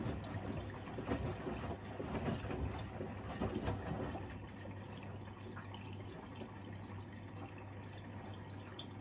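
Water runs steadily into a washing machine loaded with a heavy dose of detergent powder, a soft continuous rushing and trickling with a low mechanical hum beneath, no voices.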